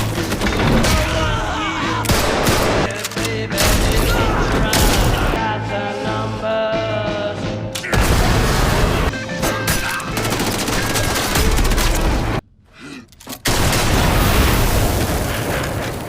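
Rapid bursts of gunfire and explosions from a Rambo action movie fight scene, loud and dense with repeated volleys over a driving score, a brief drop near the end before the firing resumes.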